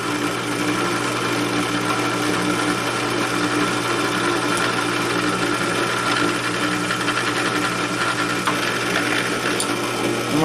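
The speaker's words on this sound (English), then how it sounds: "So we're going to drill these pinholes." A drill boring pinholes in a knife blank in a knife-making shop, a steady continuous motor whine held throughout with no pauses, close and fairly loud, no talking.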